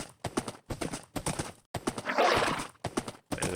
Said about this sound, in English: And my horse is escaping.